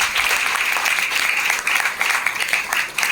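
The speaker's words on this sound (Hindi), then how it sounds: "mister Santosh Kumar Singh sir and Rajan Singh sir के लिए एक बार जोरदार तालियां" A hall audience at a business meeting in Nallasopara gives sustained, loud applause for two leaders, a thick, even wash of many hands clapping at once with no break.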